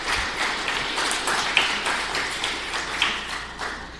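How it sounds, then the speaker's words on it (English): Audience applause at a live stream talk rises as a moderate, fairly close patter of clapping hands, holding steady for several seconds with a few sharper individual claps standing out. "A round of applause, please."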